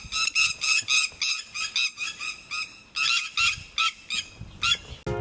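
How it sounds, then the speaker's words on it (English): Laughing birds mob a mongoose near their nest on a Bandipura safari, letting out loud, rhythmic bursts of harsh cackling calls in two long runs of repeated notes, each separated by short gaps. "Laughing birds driving the mongoose away from their nest."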